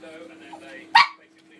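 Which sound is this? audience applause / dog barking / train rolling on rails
dog barking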